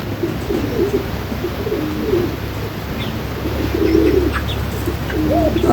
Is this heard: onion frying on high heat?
no